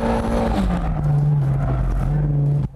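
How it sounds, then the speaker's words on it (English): A car engine revs steadily at high pitch while drifting, holding a droning tone that dips slightly before cutting off abruptly near the end. "You have to keep revving it within the torque band."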